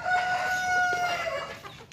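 An Indian breed chicken, a large bird, crows in a loud sustained call with clucking alongside, close and clear in a farmyard setting.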